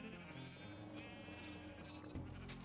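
Sheep in a Minecraft-style video game bleat in a steady wavering cry over a dense, layered mix of game sounds, with no talking.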